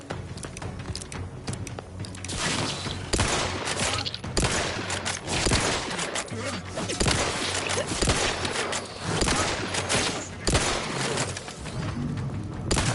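Rapid bursts of gunfire from The Outer Worlds 2 video game, dense repeated shots and booms over a steady game soundtrack, loud and continuous across the whole stretch.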